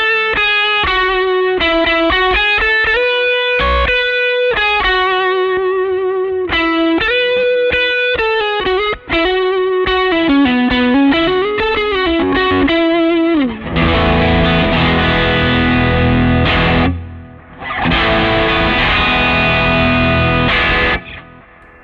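Distorted electric guitar through a Line 6 Helix on the neck pickup with a midrange EQ boost, loud sustained single-note lines with bends, then thick strummed chords with a brief gap.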